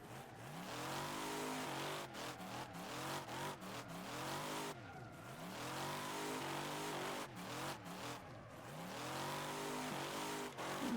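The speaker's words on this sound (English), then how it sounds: "This car sounds really nice" A modded car's engine revs hard in the Wreckfest racing game, steady loud roaring with repeated rises and drops in pitch and brief gaps between throttle blips, tire squeal mixed in, no talking.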